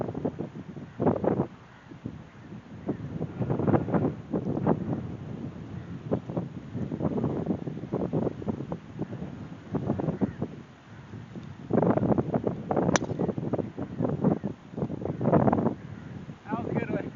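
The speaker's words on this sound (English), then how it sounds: "It's probably blowing about 20 right now." Gusty wind buffets the microphone on a golf course in Egypt, rising and falling in loud rushing bursts that largely drown out a faint voice.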